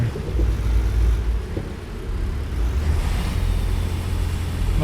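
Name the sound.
truck engine straining uphill in American Truck Simulator video game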